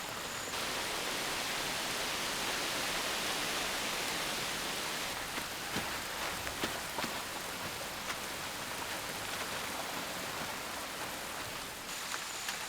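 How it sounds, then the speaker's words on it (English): Heavy tropical rain pours down steadily in the Amazon rainforest, a dense, loud, unbroken hiss of drops on foliage and surfaces that continues without a break. "The rains continue for weeks."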